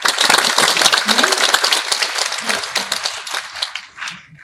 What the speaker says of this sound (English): give yourself a huge round of applause for keeping your patience up till now